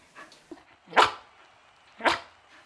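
A dog gives two distinct loud barks about a second apart, as if counting, with faint soft sounds before them in a quiet room.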